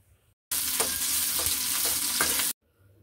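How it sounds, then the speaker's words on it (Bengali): Chopped onion and garlic fry in hot oil in a wok, giving a loud, steady sizzle for about two seconds with a few stirring scrapes, starting and stopping abruptly. "এখন দিচ্ছি তেল, রসুন আর পেঁয়াজ কুচি দিয়েছি। এখন এগুলোকে ভালো করে ভেজে নিতে হবে।"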